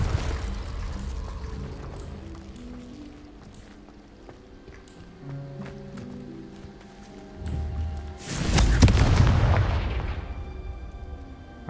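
A Confringo explosive spell blasts in the Hogwarts Legacy video game, a loud booming burst near the end that rises out of quieter game music and effects, with no talk over it.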